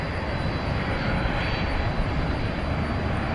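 An American Airlines Boeing 737 MAX 8 takes off at night from DFW bound for San Jose, a steady, dense jet engine roar close by, with no voices over it.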